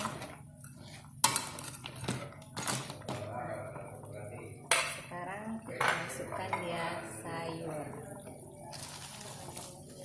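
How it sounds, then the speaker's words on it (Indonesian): Metal utensils scrape and clink against a pot of boiling water and vegetables for Mie Aceh with crab, in irregular strokes, with bubbling water beneath and occasional louder knocks, close by. "sekarang kita aduk-aduk dulu"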